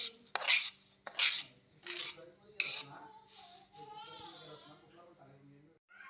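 Semolina (rava) that has been roasted is scraped out of a pan onto a plate. Several sharp metallic scrapes come early, followed by quieter scraping, and a voice talks over them.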